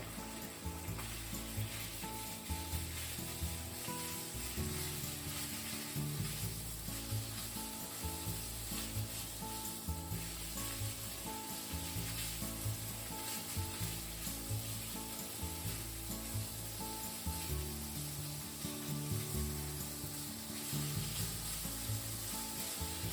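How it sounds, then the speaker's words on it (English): Pork sizzles in vegetable oil in a frying pan, a steady close crackling hiss broken by regular rhythmic scraping as it is stirred, continuing alone without talk. "Another tablespoon of vegetable oil in the frying pan"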